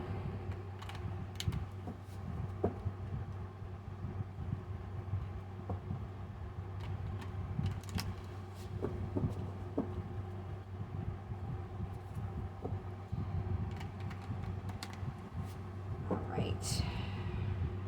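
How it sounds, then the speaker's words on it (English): Soft repeated riffling and tapping of tarot cards being shuffled, close by, over a steady low hum with occasional light clicks. "let me continue shuffling these here."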